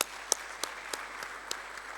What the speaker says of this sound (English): let's thank Prof. Ramose again with a full round of applause